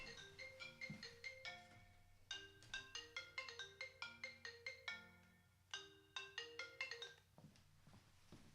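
Mobile phone ringtone playing a bright, bell-like melodic pattern of rapid plucked notes, repeating in phrases for several seconds at low volume in a quiet room.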